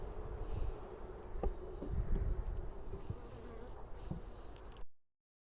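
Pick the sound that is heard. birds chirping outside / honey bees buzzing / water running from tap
honey bees buzzing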